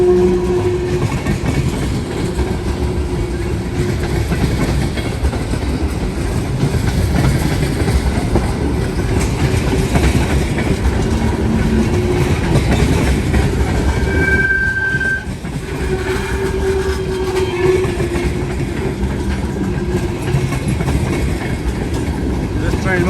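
A long northbound freight train of ethanol tank cars rumbles steadily past nearby, wheels clattering over the rails with occasional squeals, the heavy roar continuing without a break.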